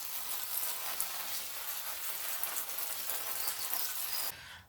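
Water streams steadily onto soil in containers of freshly planted onions, a continuous close hiss of spray that holds evenly before cutting off abruptly near the end.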